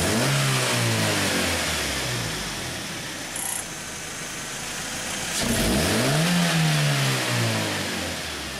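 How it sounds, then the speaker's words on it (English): A car engine, just repaired after a lean-running P0171 fault, given two snap throttle blips: each sharp rev climbs and falls back to idle, loud and close, with a steady idle between. "now we'll do a couple more snap throttles and we'll see how the signal looks this time"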